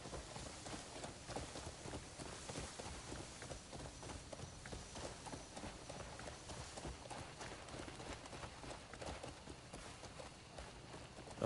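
Horse hooves gallop in the video game Crimson Desert in a rapid, steady clip-clop rhythm that continues unbroken, fairly faint, with no talking.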